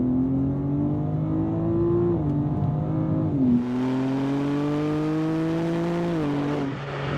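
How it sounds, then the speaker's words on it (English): A 2026 BMW M2 CS inline-six engine drones steadily from inside the cabin, its pitch climbing under throttle and dipping at gear changes, with a brief louder surge midway. "I enjoy the noise I get out of the inline six"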